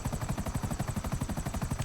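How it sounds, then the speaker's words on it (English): Helicopter rotor in the video game GTA Online: a loud, rapid, steady chopping pulse, evenly spaced and continuous throughout, with no talking. "This got a chopper already"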